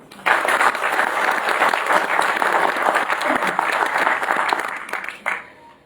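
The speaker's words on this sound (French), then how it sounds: "Merci de l'applaudir chaleureusement." An association anniversary gathering gives a long, warm round of applause, a dense, even crowd clatter that swells, holds for several seconds and tapers off at the end.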